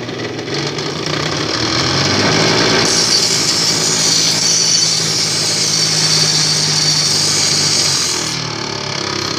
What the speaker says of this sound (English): The different reactions each of these have on a simple grinding wheel on your bench grinder